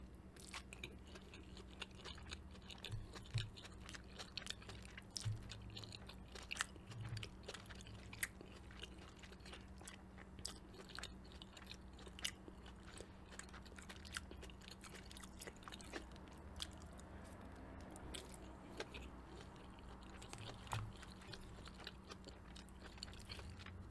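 Chicken pad Thai being chewed close to the microphone, soft repeated bites and moist chewing clicks scattered over a quiet background with a faint steady hum.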